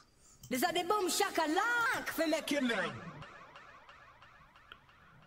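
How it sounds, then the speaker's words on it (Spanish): A jet effect from VirtualDJ pad FX, a whooshing, sweeping sound with pitch glides, sweeps loudly through, then trails off into a fading echo tail. "Ahora vamos con el efecto jet."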